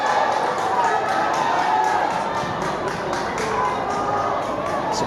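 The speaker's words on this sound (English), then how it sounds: "Some protests in the crowd." Stadium crowd at a Philippines Football League match between Kaya FC Iloilo and Manila Digger FC, a steady loud roar of protest rising over the field noise after a foul call, with no distinct voices standing out.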